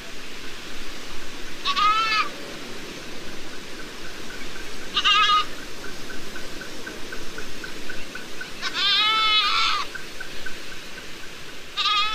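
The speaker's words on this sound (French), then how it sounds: "Manu Bai va se servir d'une chèvre comme appât." A tethered goat set out as bait in the Gir forest bleats four times in short, wavering calls, moderately near, over steady outdoor background noise.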